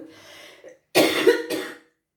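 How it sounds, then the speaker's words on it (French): A soft breathy sound, then a brief pause, then two harsh, close coughs in quick succession. "Excusez-moi, je tousse encore par moment."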